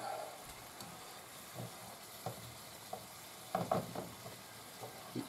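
Refried beans sizzling quietly in a pan, a faint continuous crackle with soft scraping and stirring knocks scattered through, close but low in level.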